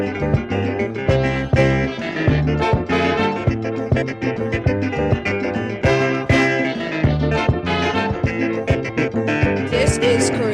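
A calypso song plays loud and dense, with a driving rhythm, bright layered instruments and a strong bass throughout.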